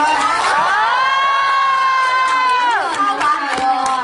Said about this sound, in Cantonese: 俾啲掌聲嚟聽下先啦！